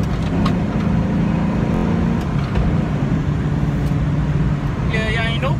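A 2004 Mustang GT 40th Anniversary whines and drones loudly as it shifts gears, a continuous engine and road sound with people talking over it.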